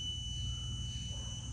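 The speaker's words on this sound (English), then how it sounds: "the ohmmeter will beep" An ohmmeter's continuity beep, a steady high electronic tone ringing continuously, clear and unbroken, over a low background hum, while testing a Ford inertia switch.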